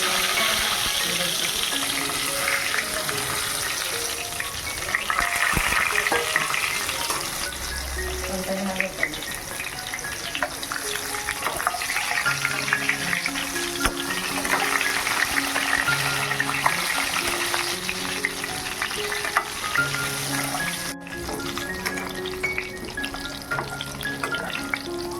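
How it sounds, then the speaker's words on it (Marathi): Brinjal (eggplant) fries in a pan with mustard seeds, cumin and curry leaves for khar vang, a continuous close sizzle with intermittent stirring scrapes, a short run of water near the middle and faint tones in the background. "ह्यात मी आता वांगी फ्राय करून घेणार"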